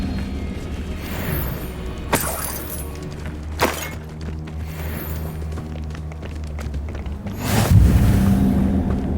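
Confringo blasting spells explode in the video game Hogwarts Legacy, giving several sharp shattering bursts followed by a heavier, booming crash near the end, loud and close over a rumbling battle background.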